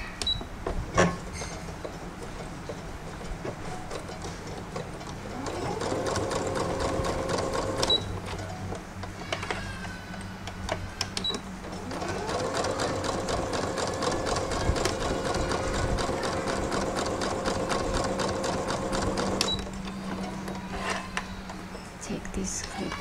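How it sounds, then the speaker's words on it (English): A sewing machine stitches a small fabric pillow keychain, running in two steady mechanical bursts of several seconds each, close and whirring, with quieter handling noises between and around them. "we will stitch it using sewing machine"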